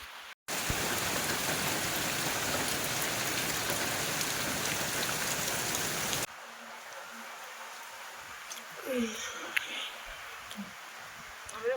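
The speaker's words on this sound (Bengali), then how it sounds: "বাইরে বৃষ্টি হচ্ছে" Rain falling outside in a steady, dense hiss for about six seconds, then cutting to a quieter indoor scene where people speak briefly.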